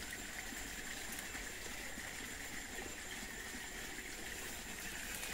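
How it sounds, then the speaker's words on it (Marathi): Irrigation water runs through the furrows of a sugarcane field, a faint, even, continuous trickling and gushing wash with no voices. "पाणी व्यवस्थित चाललंय आणि ही शेवटची पाईप इथली चालले, सगळं पाणी चाललंय"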